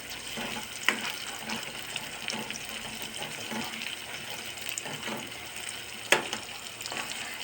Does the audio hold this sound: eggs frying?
yes